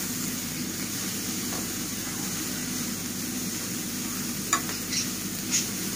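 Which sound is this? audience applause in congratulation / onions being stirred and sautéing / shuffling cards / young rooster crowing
onions being stirred and sautéing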